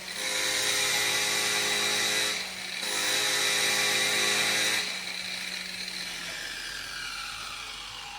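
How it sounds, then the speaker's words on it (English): A power tool polishes Lyle's stainless steel pipe, giving a loud, high whine that runs steadily, dips briefly, resumes, then drops to a quieter, lower grind as the load eases. "So I was just watching Blake polish up this Lyle's stainless pipe"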